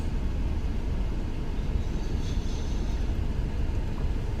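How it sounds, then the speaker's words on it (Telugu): A goods train rolls past a closed railway level crossing, a loud, continuous low rumble and rattle of wagons close by that holds steady throughout with no talking. "గూడ్స్ ట్రైన్ అనుకుంటా."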